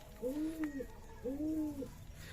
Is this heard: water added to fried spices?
no